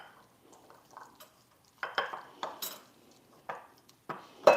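A spoon stirs diluted condensed cream of mushroom soup into a green bean casserole, giving a run of soft, wet scraping and clinking strokes against the dish, some louder than others, with no talking.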